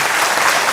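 Loud, dense applause from a spiritual class audience, steady and continuous throughout with no talk over it.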